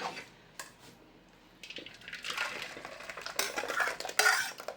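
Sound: dal being put into a pot

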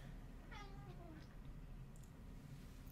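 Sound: cats meowing

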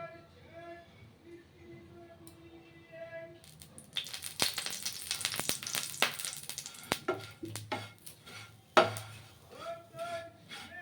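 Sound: bread frying in oil in a pan

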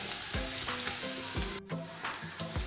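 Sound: sautéing ginger, garlic and curry leaves in a pan

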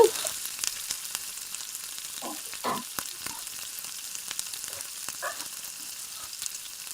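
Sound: fish pieces frying in a pan, being flipped

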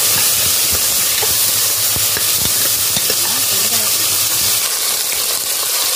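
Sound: frying in a pan for citron (narthangai) pickle

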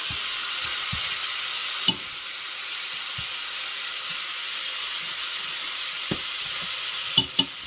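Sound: oxtail frying in a pot on a medium-heat stove

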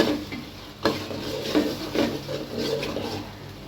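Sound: stir-frying haleem spice paste in a pan

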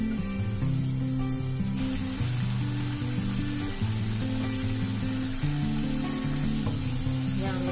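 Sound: tempeh frying in hot oil over medium heat

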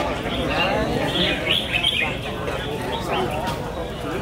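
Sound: red-whiskered bulbul singing in a bird song contest

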